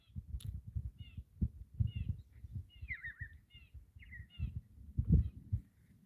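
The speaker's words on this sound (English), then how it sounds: "Oh, I love the sounds of the birds visiting." Faint chirps and short calls from birds visiting a wildlife water feature in a dry, drought-stricken garden, sounding over soft low thumps and rustles.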